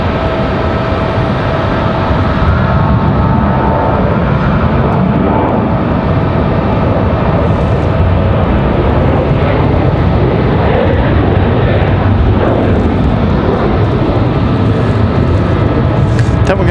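American Airlines flight 2308 departs Raleigh-Durham International for Los Angeles, its engine roar a loud, steady broadband rumble that holds throughout, with voices talking over it.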